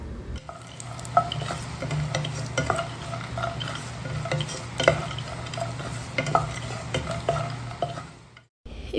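Almonds and raisins fry in ghee with a continuous close sizzle. A spoon stirs them in repeated scrapes and light clinks against the pan for several seconds, then everything cuts off abruptly.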